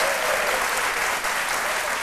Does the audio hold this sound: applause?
yes